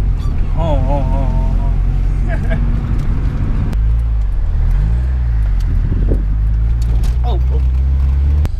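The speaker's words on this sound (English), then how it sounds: "crazy pulls. Rolling burnouts. One tire fire burnouts." A Honda Integra doing street pulls and rolling burnouts on a road at Afobaka. Its engine drones loudly and continuously, with revving swells partway through, under excited voices talking throughout.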